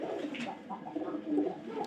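Soft, low cooing of pigeons, faint and steady against a quiet background murmur.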